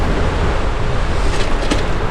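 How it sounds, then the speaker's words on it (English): Strong wind gusts roar straight into an outdoor microphone on a cycling ride, a dense continuous rumble that buffets loudly for the whole moment with no voices. "Wow, it's windy, I hope you can hear this."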